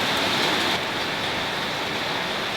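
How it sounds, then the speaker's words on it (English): Hail falls hard on a homestead, a dense, loud, even hiss of pelting ice striking surfaces, slightly heavier at the start and steady throughout, no voices. "It is literally hailing."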